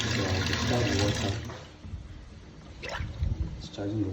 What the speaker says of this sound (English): So I'll discharge the water.